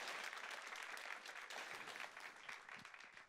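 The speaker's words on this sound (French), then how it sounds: "Applaudis le Seigneur." A church congregation applauds together during a French-language worship service, a steady, fairly faint wash of clapping that holds for the whole span without pause.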